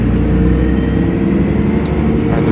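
A MAN NL223 solo city bus in Ljubljana rumbles with a loud, close, steady engine drone, deep and continuous with no talking over it.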